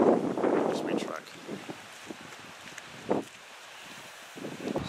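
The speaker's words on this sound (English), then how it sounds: "It's a wee bit windy up there." Gusty wind buffets the microphone outdoors on a Scottish mountain, loud rushing at first then easing, with a few faint voices in the background.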